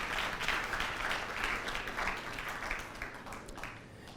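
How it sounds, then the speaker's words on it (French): A concert audience at an a cappella competition applauds steadily, a dense wash of many hands clapping that holds for several seconds and fades slightly toward the end. "Merci de l'applaudir pour leur accompagner à sa place."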